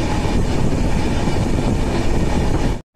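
A train runs on rails with a loud, continuous, close rumble and rattle of wheels and carriages that holds steady, then cuts off abruptly at the end.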